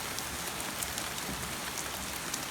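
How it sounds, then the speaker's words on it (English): Torrential rain pours down during a summer evening thunderstorm, a dense, continuous hiss of heavy downpour with steady drops spattering close by. No one speaks. "and now we've got torrential rain."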